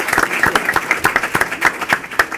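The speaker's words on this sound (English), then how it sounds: "we can clap for our 2019 graduates" A school audience in Chicago claps for 2019 graduates, loud and close, with a fairly rhythmic pattern of individual claps standing out over the crowd's steady applause.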